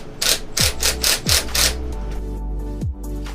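An 8mm impact driver tightening a riv nut for a smoke kit injector, held with a wrench, gives several short rattling bursts in quick succession, loud and close, followed by a few pauses and a final burst.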